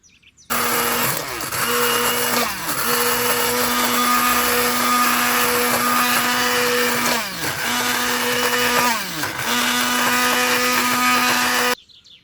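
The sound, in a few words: hand blender blending lentils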